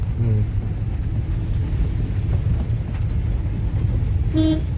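A vehicle engine rumbles close by while people talk, and a short car horn toot sounds near the end.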